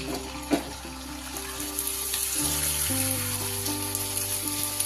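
Puchka (fuchka) dough balls, three at a time, sizzle steadily in hot oil while oil is spooned over them, a continuous close frying hiss with a faint tonal hum underneath and no talk.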